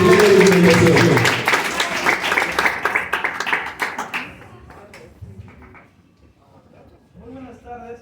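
Students and guests clap for a speaker at a school debate, giving a loud burst of applause over the first few seconds that thins out before a voice begins talking.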